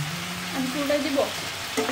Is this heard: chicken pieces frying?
yes